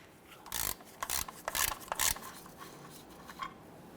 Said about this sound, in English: Use your 3/8 ratchet and loosen or remove this plug.